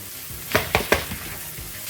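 Minced meat dropped into a piping hot, smoky Chinese wok, a steady sizzle broken by three quick clattering scrapes and stirs close by, with no talking.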